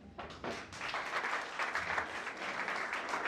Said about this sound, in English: I need all the men to clap for ladies in this room